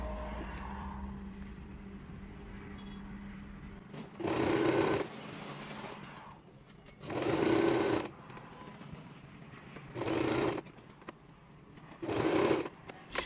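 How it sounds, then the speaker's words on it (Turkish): A sewing machine stitching a shirt collar piece in four short separate bursts of whirring, each lasting a second or two, with quiet pauses between. "Sonrasında şöyle girebildiğim yere kadar yaka parçasını dikiyorum."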